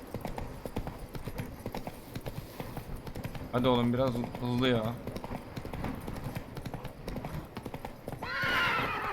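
Rapid hoofbeats of a galloping horse in The Witcher 3 video game drive on steadily, broken by two loud close neighs in the middle and another whinny near the end, while someone talks over it.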